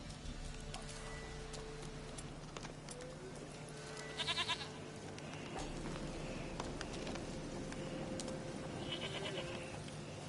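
Goats bleat in The Witcher 3 video game, several short wavering bleats spaced across the scene over a steady low ambient hum, with no talking.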